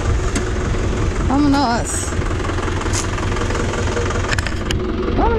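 A motorhome engine rumbles steadily as it pulls away on a European road trip, a loud low drone throughout with a person talking over it.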